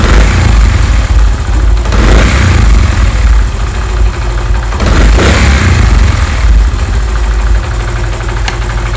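Honda CD 70 motorcycle engine running loud and close throughout, held at raised revs with slight surges around 2 and 5 seconds, a continuous mid-pitched drone that never drops back to idle.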